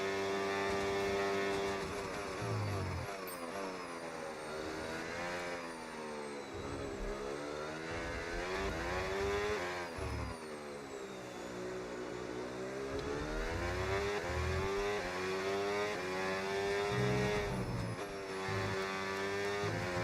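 Formula 1 car engine in the F1 26 racing game, a steady high-pitched whine rising and falling through gear changes over a continuous game soundtrack, loud and unbroken with no talk.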